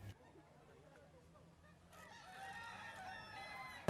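A kokok balenggek rooster at a crowing contest lets out a long, drawn-out, wavering crow that rises out of a low murmur of background activity and carries on steadily, faint and somewhat distant.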